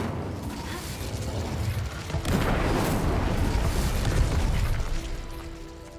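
A fire spell, Incendio, cast in the Hogwarts Legacy video game on hard mode: a sustained roaring, crackling whoosh that swells after a couple of seconds and holds steady before easing off, loud and close with no talking.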